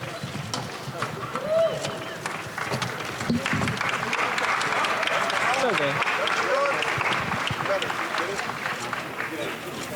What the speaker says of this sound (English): Big round of applause for 2 classic